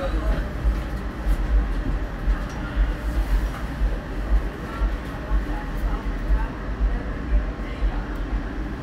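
Oklahoma City streetcar running on its rails: a low rumbling ride with rhythmic thumps and rattles from the car, steady throughout, with muffled voices under the motion noise.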